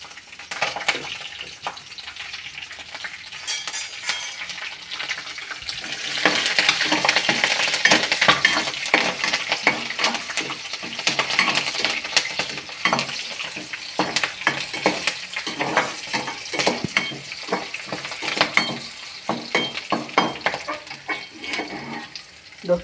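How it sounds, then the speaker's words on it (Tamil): Green chillies fry in hot oil with mustard seeds and curry leaves for a carrot poriyal, making irregular crackling pops over a steady sizzle, with occasional spoon stirs close by. "பச்சை மிளகா கொஞ்சம் பொரிஞ்சிடுச்சு."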